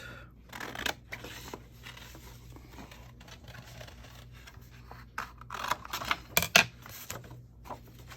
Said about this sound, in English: I'm gonna cut that out